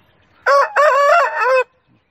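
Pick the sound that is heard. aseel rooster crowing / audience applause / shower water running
aseel rooster crowing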